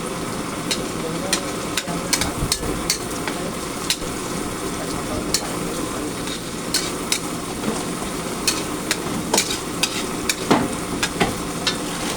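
Pancit noodles with vegetables stir-fried in a pan, a steady close sizzle with scattered clacks of a utensil against the pan throughout, and faint talk in the background.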